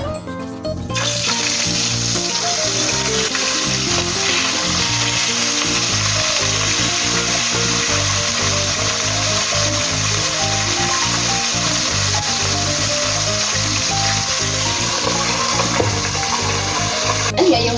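Galunggong fish fries in a hot pan, a loud steady sizzle with crackling spatter that holds the whole time, close and with no voices over it.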